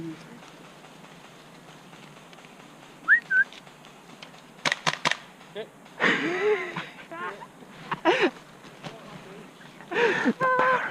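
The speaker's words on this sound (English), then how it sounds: "The power of the whistle." Whistle blown in a video game, heard as several short tonal chirps amid busy game noise and bursts of effects, with players talking over it.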